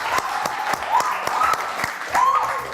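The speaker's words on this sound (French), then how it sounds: "je vous demande d'applaudir très très fort." A studio audience on a French television show claps steadily, a moderate close burst of applause with crisp individual claps throughout.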